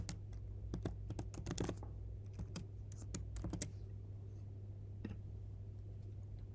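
A computer keyboard clicks in quick clustered bursts as a name is typed, the keystrokes crisp and close, followed by a few scattered taps over a low hum.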